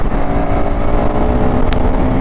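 A 2025 KTM 390 Adventure motorcycle engine runs hard on an open road, a steady loud roar with wind rush and one short high whine partway through.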